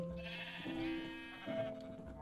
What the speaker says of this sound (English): 14 pink sheep.